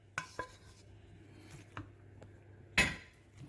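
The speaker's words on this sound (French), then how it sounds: "On peut les mélanger à l'appareil qu'on a fait avec les œufs, la ciboulette hein," A spoon clinks against a bowl while cooled leeks are mixed into an egg, chive and cream filling for a Flemish leek flamiche. A few sharp, sparse taps are followed by one louder clatter near the end, with quiet in between.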